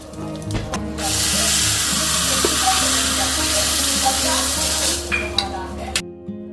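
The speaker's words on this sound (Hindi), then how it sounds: "इसमें लगा रही हूँ मैं छौंका" A loud, steady sizzle and crackle as spices hit hot rice bran oil for tempering chutney, lasting several seconds between faint clinks and background hum, then cutting off abruptly.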